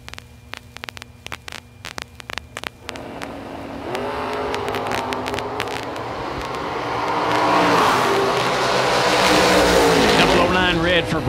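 A 1968 Camaro drag racing down the strip, with clicking and humming at first, then a loud engine roar building and holding as the car runs, a voice announcing over it.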